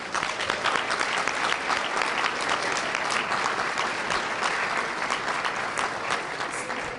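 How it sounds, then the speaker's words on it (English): Sustained applause from a large audience at a Tampa civic ceremony, a dense steady clapping that holds at an even level throughout the seven seconds with no talk over it. "we do applaud you"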